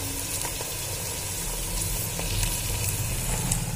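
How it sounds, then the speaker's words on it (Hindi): Mutton keema frying in mustard oil inside a pressure cooker gives a steady, close sizzle with a few soft stirring clinks and no voices. "अब हम इसमें डालेंगे कीमा।"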